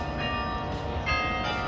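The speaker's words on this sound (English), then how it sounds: "Just savoring the bells over here." Church bells ring steadily in Provo, Utah, near the Provo City Center Temple, a continuous sustained peal with no talking over it.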